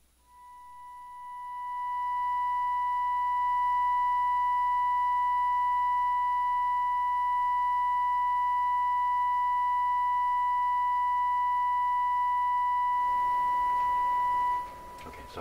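A steady 1000 hertz tone with faint harmonics from the detector output of a Nordmende 3004C radio, swelling in over the first seconds, then holding constant before noise rises and it cuts off near the end.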